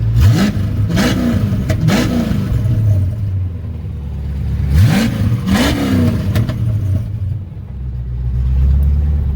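A car engine revs up several times in quick bursts, the pitch climbing and falling over a steady idle, loud and close.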